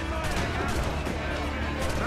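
A cannon shot blowing up a barrel in the naval combat of Assassin's Creed 4 Black Flag, a dense, continuous roar of booming gunfire and explosion noise filling the whole stretch, with a voice faintly present underneath.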